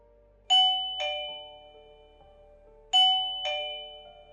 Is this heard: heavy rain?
no